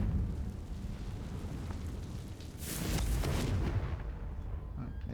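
A Confringo fire spell bursts in the Hogwarts Legacy video game as a loud, rumbling explosion. The blast swells near the middle over a steady low roar, then fades.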